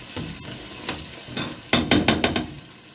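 Meat and spices for aloo gosht fry in a pan, with soft sizzling broken by several sharp spoon-stirring knocks near the end, heard close with no talking.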